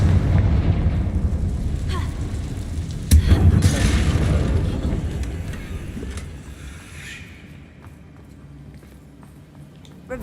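A Confringo fire spell in Hogwarts Legacy bursts with a loud booming impact that rumbles on and slowly fades over several seconds.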